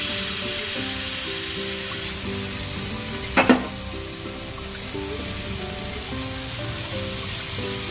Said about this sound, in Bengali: তো এখন তাওয়ার মধ্যে এগুলো একটা একটা করে একটু সেঁকে নেব